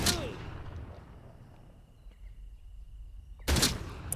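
Shotgun blasts in the Atomfall video game, one sharp loud report at the start and another a few seconds later, with quiet ambient hum in between.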